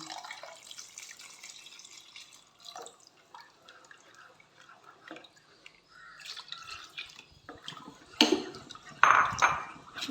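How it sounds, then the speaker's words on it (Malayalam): Melted jaggery syrup is poured into a pan, heard as soft trickling and dripping with light clinks of utensils, ending in a few louder clatters. "ഇനി ഇതിലേക്ക് നമ്മൾ നേരത്തെ ഉരുക്കി വെച്ച ശർക്കരപ്പാനി ഉണ്ടല്ലോ, അത് ഇതിലേക്ക് ഞാൻ ഒഴിച്ച് കൊടുക്കുന്നു"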